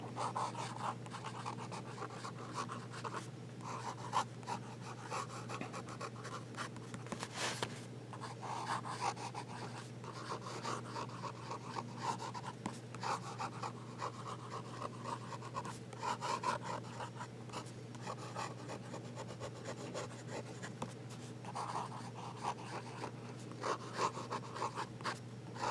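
A Hinze Pens Phoenix fountain pen nib writes in reverse on paper, a soft continuous scratchy rubbing that stays faint and steady over a low background hum, with no voices.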